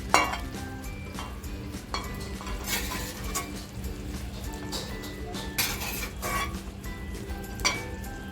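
Egg dum biryani gravy is scooped and scraped out of a metal pan, with a series of clinks and stirring scrapes at an irregular pace close to the mic.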